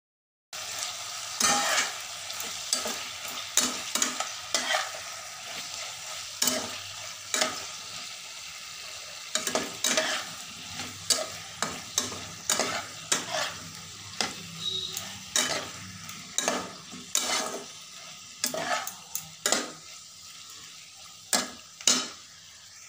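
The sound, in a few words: stirring and frying egg mixture in a pan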